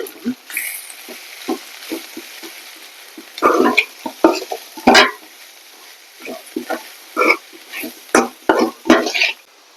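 A spoon stirs banana flower curry in a pan, giving scattered scraping and clattering strokes in uneven bursts, fairly close, while someone talks over it.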